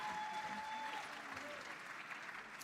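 An audience at a Black Caucus session of the 2024 Democratic National Convention applauds as a steady, fairly soft wash of crowd clapping with a faint tone running underneath, continuous throughout.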